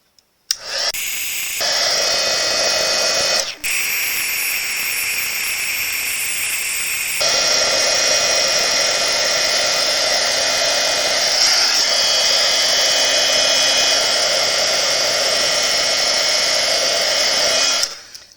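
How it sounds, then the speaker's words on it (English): A crafting heat tool melts embossing powder with a loud, continuous blowing roar for about seventeen seconds. It cuts out briefly once, then its tone shifts slightly partway through. "And now I'm going to set it with the heat tool."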